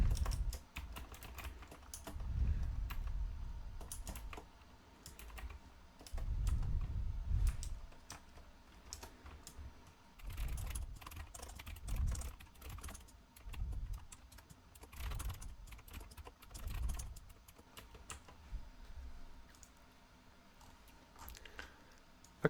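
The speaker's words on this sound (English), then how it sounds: "Okay, so I just typed these all up." Steady typing on a computer keyboard, close and fairly quiet, with bursts of clustered keystrokes separated by short pauses, continuing throughout with no voices.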